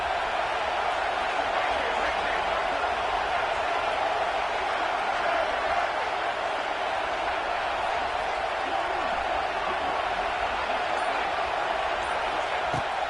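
A steady roar of a large stadium crowd in the College Football 26 video game, dense and continuous without distinct cheers or breaks.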